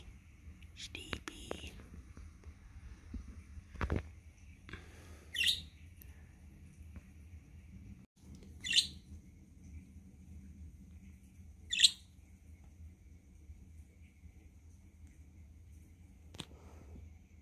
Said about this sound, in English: happy bird, Coco?